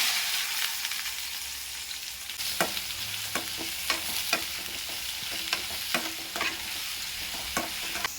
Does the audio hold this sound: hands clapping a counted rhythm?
no